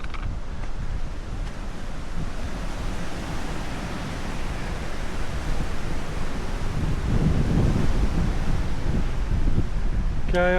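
Wind sweeping across an exposed hiking trail near Woolpack Rocks, a continuous broadband roar that swells slightly toward the end, with no talk.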